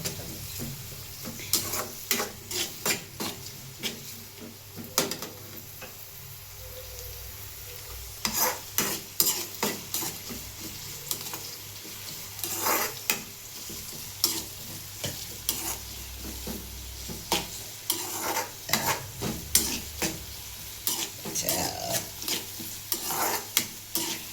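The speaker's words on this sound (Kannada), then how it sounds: "ಎಣ್ಣೆಗೆ ಫ್ರೈ ಮಾಡ್ಬೇಕ್ರಿ ಫ್ರೆಂಡ್ಸ್. ಒಂದು ಸ್ವಲ್ಪ ಗೋಲ್ಡನ್ ಕಲರ್ ಬರೋವರೆಗೂ ಫ್ರೈ ಮಾಡ್ರಿ" Potato pieces fry in hot oil in a pan, giving a steady sizzle broken by frequent scraping stirs and clicks of the spatula, close by and fairly loud, with no talking.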